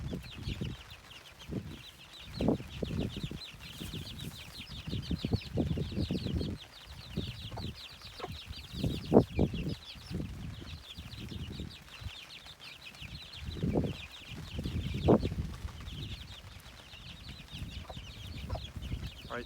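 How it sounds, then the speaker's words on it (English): Chicken hens cluck repeatedly at close range in short bursts from trees, with birds chirping faintly in the background. "I could hear some clucking in the trees here"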